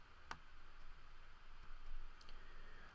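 A single sharp computer mouse click near the start, quiet and close, followed by a couple of fainter ticks in a soft background hiss.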